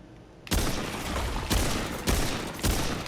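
Hunting rifle gunfire in the video game Remnant II on PS5: three or four sharp, loud single shots spaced about half a second to a second apart over a steady background hum, with no talking.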